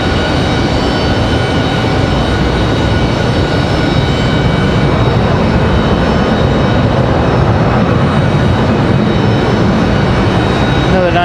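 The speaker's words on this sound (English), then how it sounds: "Nice Delta landing" A Delta airliner landing at Raleigh-Durham airport, a loud continuous broadband jet roar with steady rumble holding throughout, nearby and alone without talk.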